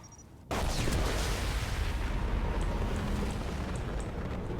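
A large explosion in Mass Effect 2, erupting suddenly after a brief quiet moment into a loud, sustained roaring rumble that slowly fades while the noise continues.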